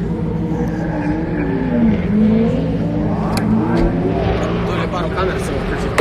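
A drift car engine warms up with a rough idle and several rising and falling revs, heard up close with voices talking over it.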